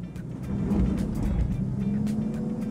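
A car in first gear pulls away under load, its engine droning low and rising slightly, close by with a steady rumble and no talk.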